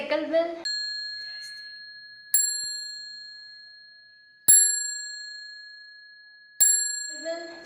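Short speech at the start, then a bicycle bell dings four times at uneven intervals, each bright ring decaying slowly, with brief talk at the end.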